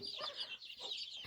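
Local chickens on a small poultry farm cluck in a few short, close, bright calls that rise and fall over a soft background.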